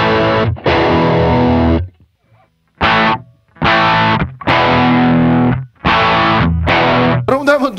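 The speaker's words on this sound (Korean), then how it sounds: "팬더 앰프 헤드에다가 캐비넷 시뮬레이터를 지금 걸어놨는데" Electric guitar played through a Fender amp head simulator and cabinet simulator gives distorted, harmonically rich phrases in several bursts with short gaps between them, loud and close, with no talking.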